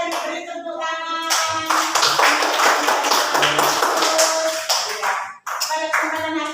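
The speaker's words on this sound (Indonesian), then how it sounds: "beri tepuk tangan" Children in a grade three Christian religion class clap their hands together, a loud, dense burst of group clapping with some voices mixed in, fading briefly near the end before resuming.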